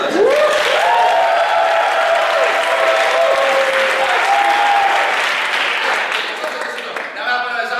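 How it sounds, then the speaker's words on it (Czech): A loud, dense wave of applause from the crowd at a Czech improv show, with whoops and shouting voices riding over the clapping before it thins slightly toward the end. "Tak pojďte takovýhle potlesk"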